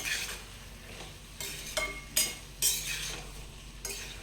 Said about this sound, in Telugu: ఇలా మధ్య మధ్యలో కలుపుతూ ఉండాలండి